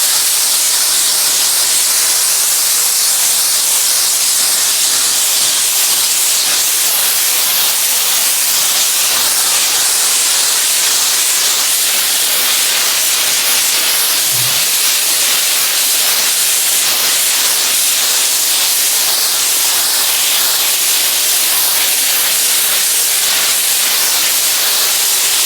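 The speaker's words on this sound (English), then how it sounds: "our next step is going to be to use our commercial grade fur steamer" A commercial-grade fur steamer blasts steam over a fur garment, a loud, continuous hiss that holds steady from start to finish with no talking.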